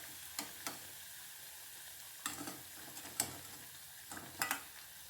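Vada frying in hot oil for iftar snacks: a steady soft sizzle with scattered sharp crackles and pops, fairly quiet and close, with no voices.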